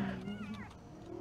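A cat-like creature in Prince of Persia: Warrior Within gives a short, wavering meow-like cry over steady game ambience, with a faint voice underneath.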